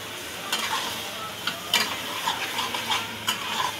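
A spatula stirs spice masala around pieces of fish curry in a frying pan, bringing steady sizzling with sharp scraping clicks at irregular intervals, close and moderately loud, with no voices.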